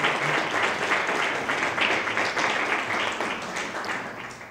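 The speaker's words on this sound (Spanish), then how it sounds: "Yo desde luego me sumo a estos aplausos tan merecidos." An audience applauds, a dense, steady patter of many clapping hands that holds throughout and slowly fades toward the end, with no talk over it.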